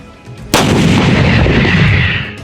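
A single loud blast from an M777 howitzer lands abruptly, then a long rumbling roar and echo rolls out and slowly fades.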